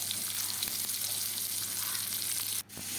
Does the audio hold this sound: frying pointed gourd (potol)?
yes